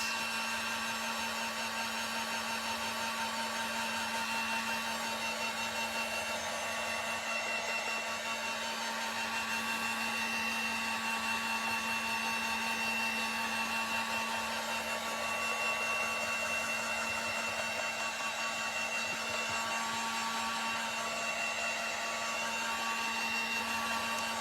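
A hair dryer blows steadily on a wet beaded tassel garland, its continuous whining hum close and unbroken throughout with no talking.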